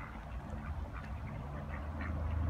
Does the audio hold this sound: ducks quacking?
yes